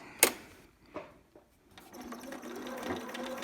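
A sewing machine stitches along the strap of a newborn romper, starting with a few sharp clicks and short runs before settling into a steady, close whirring stitch.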